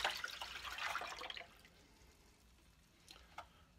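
Lukewarm water poured into an ultrasonic cleaner for a homemade brass case cleaning solution, a close splashing pour lasting about a second and a half, then quiet with a few faint drips and knocks.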